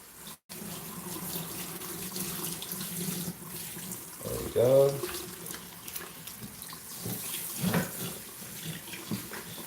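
A tap runs steadily while a dog named Harley is groomed, its coat wetted to lay the hair flat, with a brief splashing burst in the middle. A person speaks briefly over the flow.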